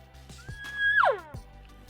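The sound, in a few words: elk call imitating an estrus cow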